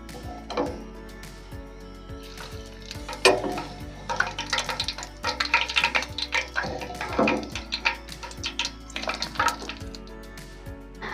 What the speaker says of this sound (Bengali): একটা ছাঁকনির উপরে তেল সমেত বুন্দিগুলো দেব